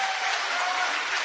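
A debate audience breaks into a brief burst of loud, dense applause, hands clapping evenly throughout.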